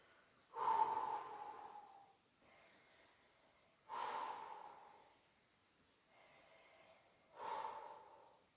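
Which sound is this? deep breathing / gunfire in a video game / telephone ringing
deep breathing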